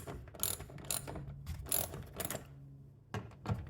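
A hand ratchet clicks in quick bursts, close and clear, as bolts on the door stop of a 2008 Infiniti FX35 are loosened, with short pauses between the runs of rapid pawl clicks.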